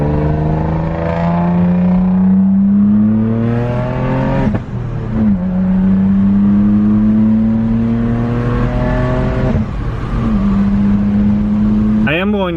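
Nissan 300ZX Turbo accelerating up a freeway on-ramp, a loud engine climbing steadily through the gears with two brief drops at shifts, then a short whir at the end.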